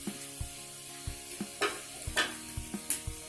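Raisins being sautéed in a pan for sheer khurma give off a soft sizzle, punctuated by a few light scraping stirs that tap against the pan at an irregular pace, heard close with no voices.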